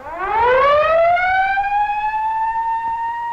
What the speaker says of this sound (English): Siren switches are thrown.